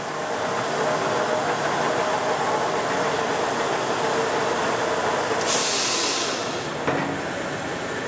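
A Leblond sliding gap bed lathe, Model NI Super HD, runs at 625 RPM with a steady, even mechanical whir and broad hum, continuous and fairly close, with a brief higher hiss near the end.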